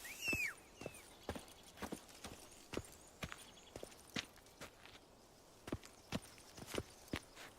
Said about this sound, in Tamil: ஓகே குதிரையை கூப்பிடுவோம்.